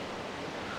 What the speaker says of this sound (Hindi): लेकिन नदी नाले बिल्कुल शांत नहीं है, वो अपनी पूरे वेग में बह रहे हैं।